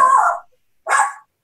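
Dog barking twice, two short loud barks close to the microphone separated by a brief silence, with no talk.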